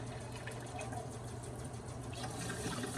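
Filtered cold water runs steadily from a kitchen tap, a continuous close hiss and splash that holds even throughout without pause.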